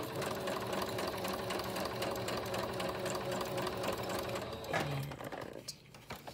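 An electric sewing machine stitching around the pages of an altered book, running in a continuous fast whirring, clattering drone close by, then stopping near the end with a few faint handling sounds.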